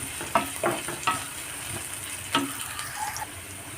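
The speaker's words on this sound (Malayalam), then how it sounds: "സവോളയുടെ ഒരു പച്ചമണം ഉണ്ടല്ലോ നമ്മൾ മാറി കിട്ടണം നേരം ഒന്ന് വഴറ്റിയെടുത്താൽ മതി" Onion sautéing in a pan for a Kerala-style chutney, a soft sizzle with several clicking stirs of a spoon against the pan, close and fairly quiet, with no talking.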